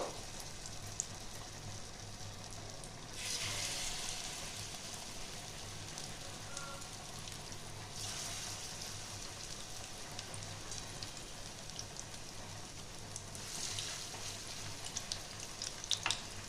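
Raw banana kofta balls frying gently in hot oil, a soft, steady crackling sizzle like light rain that swells at a few moments and stays faint and continuous.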